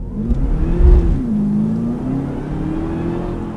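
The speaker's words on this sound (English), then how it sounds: "So you hear that blower is just whining, just great." A 2013 Cadillac CTS-V Coupe under full-throttle acceleration, its supercharger whining over a loud, rising engine roar that dips briefly at a shift and then climbs again.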